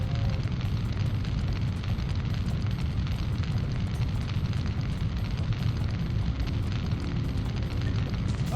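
Grenade blasts in the Syphon Filter video game merge into a continuous loud roar of explosion and rumbling debris, dense and low-heavy throughout with no gaps.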